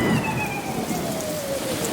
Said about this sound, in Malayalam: നല്ല 1-ാം തരം മഴയാ